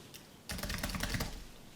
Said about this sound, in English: So I'm typing in something very quickly.